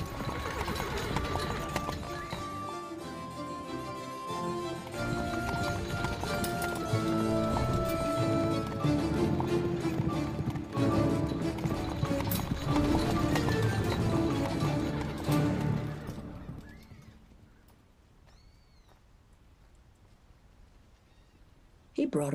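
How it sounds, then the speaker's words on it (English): Horses galloping with clip-clopping hooves in a period drama scene, a dense, loud stretch of hoofbeats blended with orchestral music and voices that fades into a quieter, calmer passage near the end. "The horses."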